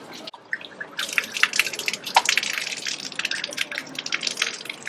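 Water splashing and trickling from a public drinking fountain in Dubrovnik, an uneven spattering stream heard close up, fluctuating in strength with brief drips.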